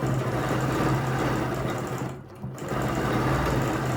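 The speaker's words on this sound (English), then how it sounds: "I'm going to do a stitch this way" Sewing machine stitching steadily along a ruler on a quilt's asterisk and star design, a continuous close motor hum with a brief dip partway through, no talking.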